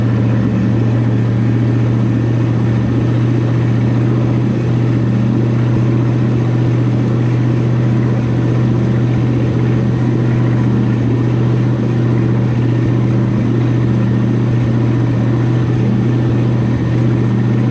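Inboard engine of a 1965 Chris-Craft boat running on a lake, a loud, steady low rumble that holds evenly throughout with no talk.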